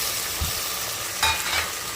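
Vegetables, brinjal and field beans sautéing in a pressure cooker give a steady broadband sizzle, with a couple of short stirring scrapes breaking through near and clear.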